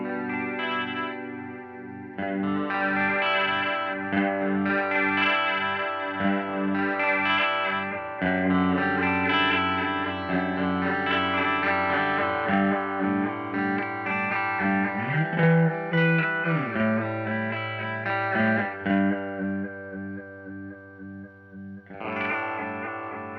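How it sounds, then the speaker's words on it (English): Guitar played through an Earth Quaker Devices Sea Machine V3 chorus pedal on a standard chorus setting, sustained strummed chords with a shimmering, wavering modulation, loud and unaccompanied for over twenty seconds. "So just standard normal chorus sound."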